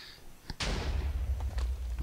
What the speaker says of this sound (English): I'm on the ground so that the TNT explosion doesn't blast me way away